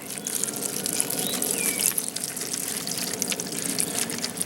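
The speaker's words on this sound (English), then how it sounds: "I'm going to take about a half a gallon of warm water and pour it into these right here" Warm water, about half a gallon, poured over seed starter pellets in a greenhouse tray, a steady close trickling pour running continuously without pause and with no speech.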